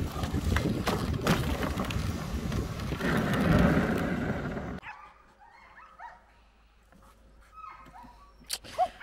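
Husky sled dogs bark and yip in a busy, continuous chorus during a mushing outing in Ivalo, Finland, loud at first and then falling away to faint scattered yelps.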